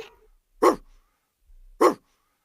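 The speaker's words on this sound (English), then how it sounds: "D for dog." A dog gives two short, sharp barks spaced about a second apart, close and clear against near silence.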